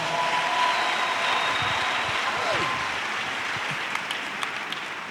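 A church congregation applauding, a dense, steady wash of clapping that holds loud and then eases slightly, with a voice calling out over it.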